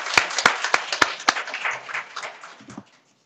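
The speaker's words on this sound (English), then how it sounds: "Diane Easter, let's give Diane a round of applause." Applause for a CNA graduation ceremony: a few sharp, distinct claps lead into brief, moderate clapping that fades out within about three seconds.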